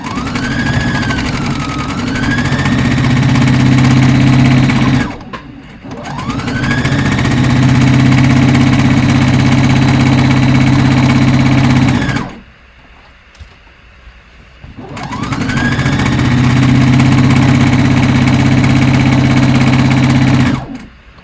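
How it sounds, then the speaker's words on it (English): Sewing machine stitching a playsuit seam twice, running in three long loud steady bursts separated by short pauses, with a whining mechanical hum throughout and no talking. "I'm gonna just sew it twice on the sewing machine."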